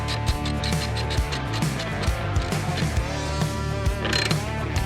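A ratchet wrench clicks in short, irregular bursts while tightening the bolts that hold the fuse box on a Lexus IS250, close and fairly quiet with no voices.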